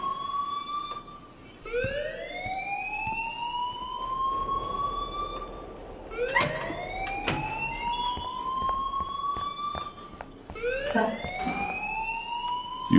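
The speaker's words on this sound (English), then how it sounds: "please turn off that alarm" A wailing electronic alarm sounds in the Life Is Strange video game, rising in three long repeated sweeps over a low background hum, with no talking over it.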